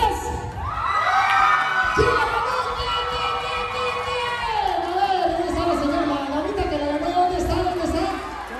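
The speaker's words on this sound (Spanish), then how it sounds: "¡Un aplauso fuerte!" Wedding guests at a lively reception cheer and whoop together, their raised voices and shouts blending into a loud, sustained crowd roar that sits close and fills the room.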